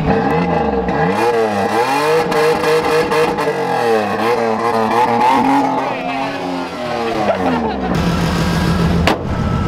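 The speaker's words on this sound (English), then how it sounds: "Give it a little pep. Give it a little rev up." A car engine, just fired up, revs repeatedly in rising and falling surges, loud and close, with voices talking over it before the revving drops to a rougher idle near the end.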